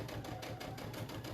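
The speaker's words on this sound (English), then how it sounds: "And now I'm going to sew down this way." A sewing machine stitches fabric in a steady rapid run, its needle chatter even and close throughout with no voices.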